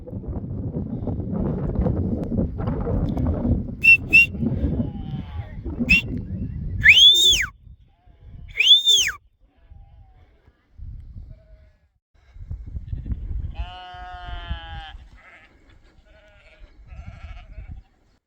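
A few sheep bleat in short, wavering calls, some nearer and some farther off, over gusty wind rumble on an open hillside of Lugnaquilla mountain during a sheep gather.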